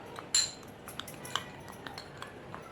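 A spoon clinks against a bowl while spices are mixed, giving one sharper tap followed by a string of faint, light metallic clinks in a quiet kitchen.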